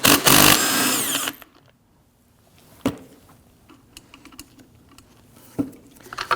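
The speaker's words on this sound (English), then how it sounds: "I'm going to go ahead and put our impact gun on there and remove that." An impact gun rattles loudly for about a second as it spins off the 13mm nut on the top shock mount of a 2009-2017 Volvo XC60, followed by quieter clicks and handling of parts.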